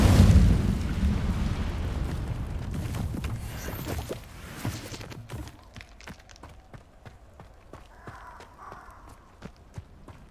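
A fire spell cast in Hogwarts Legacy flares up loud and roaring at the start, a burst of fiery rumble that fades after a few seconds into scattered crackles and small clicks.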